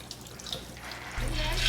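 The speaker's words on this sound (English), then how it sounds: "Drain the water." Soaked beans are drained in a kitchen, with a soft splash and trickle of water that swells into a louder, steady pour in the final half-second.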